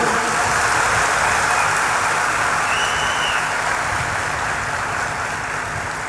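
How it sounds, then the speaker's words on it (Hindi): A large crowd at a Bageshwar Dham religious gathering claps together in a dense, continuous patter of applause that holds steady at a loud level for several seconds, with no speech. "एक बार ताली बजाओ झूम के।"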